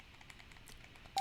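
Telephone keypad tones from the Snatcher video game, soft faint beeps scattered through the clip, ending in one louder, clearer dialing tone, with no talk.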